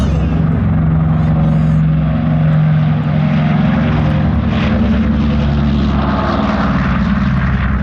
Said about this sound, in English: Fifi is taking off right now. Oh, B-29 boy. Superfortress.